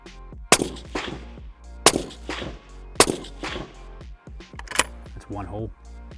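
Rifle shots fired through a chronograph on a range: four sharp, loud cracks spaced about a second apart, each ringing out briefly, with a voice speaking at the very end.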